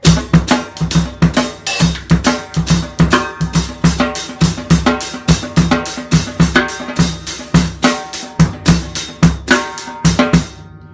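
A full drum kit plays a driving, busy double-time-feel groove over 6/8, with steady rapid hits and cymbal wash, loud and continuous with no talking.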